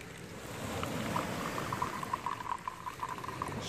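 Water pours into a pot while mint tea is being prepared, a soft bubbling, gurgling stream that builds steadily and stays fairly faint and close, with no voices.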